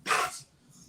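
A single dog bark, fairly close and sharp, with a quieter trailing tail and no talk over it.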